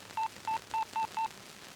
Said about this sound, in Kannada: ಆ ಬ್ರೋಕರ್ ಒಂದು ಫೋನ್ ಮಾಡು